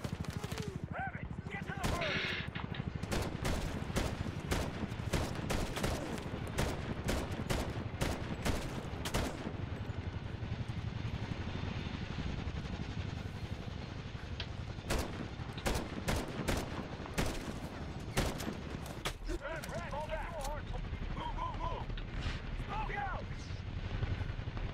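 Heavy gunfire in Medal of Honor on hard difficulty: repeated sharp shots and bursts crack through over a loud, rumbling battle bed, clustering irregularly across the whole stretch, with occasional voices.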